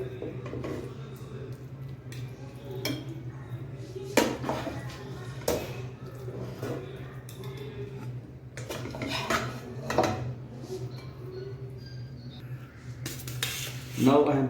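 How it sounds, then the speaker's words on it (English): A spoon scrapes and clinks in a pan while layering egg mixture between basmati rice for egg dum biryani, with intermittent metallic taps and knocks over a low steady hum, close and moderately loud. "Now I'm going to place all egg mixture in between the rice."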